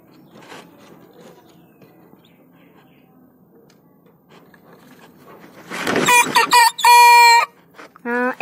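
A pet rooster at home crows loudly and close near the end, a rising harsh call that cuts in after quieter background sounds and a few soft voices.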